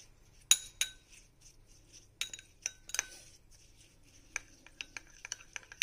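Focaccia ingredients with rosemary being mixed in a bowl, faint irregular clinks and light taps of a utensil against the bowl, close but quiet, with a few sharper knocks.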